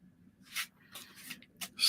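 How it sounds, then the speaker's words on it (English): A deck of tarot cards being shuffled by hand, giving soft, brief papery riffles and rustles in a few quick bursts, close and fairly quiet. "So I hope you can hear me over this ASMR of me shuffling."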